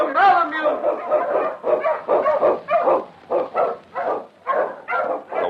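A Malamute sled dog, an Eskimo lead dog in a snowy Yukon radio adventure, barks in a quick run of loud, rhythmic yelps and woofs, close up and excited.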